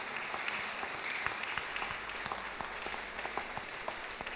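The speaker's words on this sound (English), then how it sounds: "let us give them a big round of applause" A congregation at Easter Sunday Mass at a Don Bosco Youth Center gives a steady, even round of applause that fills the church at moderate loudness throughout.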